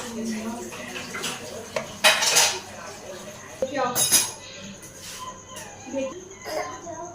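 Spoon clinking against glasses while raw mango sherbet is stirred, a few bright metallic taps and scrapes spread through the clip over a busy kitchen background.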